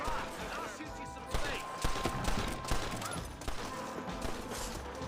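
Gunfire in a Red Dead Redemption shootout, several sharp shots and bursts scattered over dense background noise, with voices mixed into the fight.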